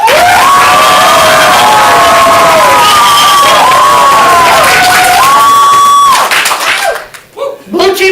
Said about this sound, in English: For the red team, applaud now.